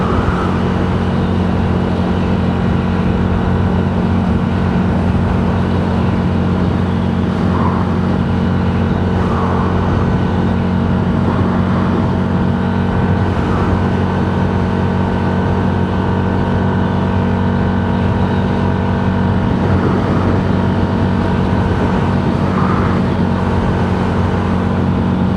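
A car cruising in sixth gear while leaving Glen Canyon, with a steady, loud engine and road drone that holds constant and unbroken throughout, no voices over it.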